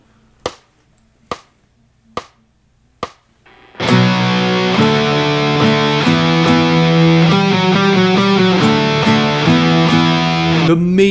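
Four sharp muted taps lead into a sustained, heavily distorted electric guitar sounding a minor interval three half steps apart, loud and ringing with rhythmic picked notes pulsing on top.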